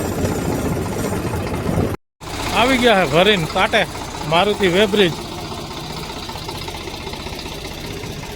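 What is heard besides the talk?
loaded tractor engine idling at weighbridge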